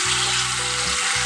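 Steady, close sizzle of ingredients frying and being stirred in a kadhai over a medium gas flame for a shahi paneer made without onion or garlic, a continuous dense crackle with no talking.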